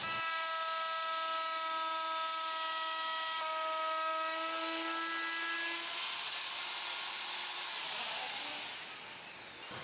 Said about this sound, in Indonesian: amplas pinggiran yang berlebih pakai gerinda